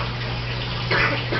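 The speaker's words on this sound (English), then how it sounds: "so we're bubbling air in there" Air bubbles through a fish aquarium with a constant watery fizz and gurgle over a low pump hum, close and steady.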